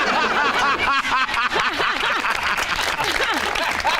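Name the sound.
studio audience applause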